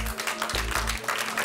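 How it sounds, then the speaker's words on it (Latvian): Applause for a team at the final of the eXperiments 2014 science competition, a dense steady patter of many hands filling the short moment, with a low hum and thumps underneath. "Aplausi viņiem."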